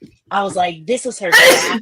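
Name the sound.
a person sneezing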